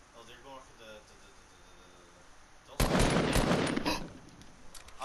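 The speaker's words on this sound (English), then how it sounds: "I just heard a gun. Have you got the new Tommy gun?" Rapid Tommy gun fire in the Fortnite video game erupts as a loud burst of automatic shots partway through, with players talking over the game audio.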